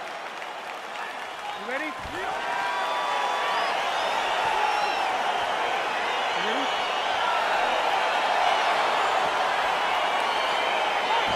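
Arena crowd in EA Sports UFC 4 cheers and applauds steadily as a Brazilian Jiu-Jitsu bout between Doo-ho Choi and Jose Aldo gets underway, a loud continuous roar with occasional whoops under a commentator's voice.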